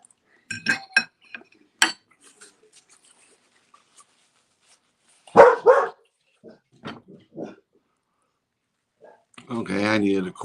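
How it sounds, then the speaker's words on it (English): A dog barks a few sharp times early on, with clinking dishes or cutlery nearby and people talking in a kitchen at intervals. "My alarm dog went off."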